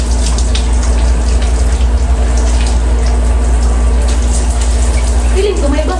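Shower water runs steadily, a loud continuous hiss and spray with a low rumble underneath and faint voices in the background.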